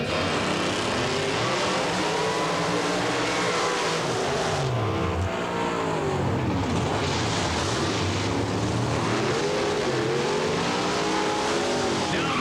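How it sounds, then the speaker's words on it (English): A supercharged alcohol-fuelled 1990 Chevrolet Beretta pro modified drag car roars loudly and continuously, its engine note sweeping up and down through revs as it passes, with heavy broadband noise throughout. "An unusual sound in pro modified drag racing, that of a supercharger on alcohol."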